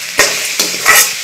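Chili powder being stirred into mushroom masala frying in a pan, with three bursts of close, loud scraping and sizzling strokes over a steady crackling fry.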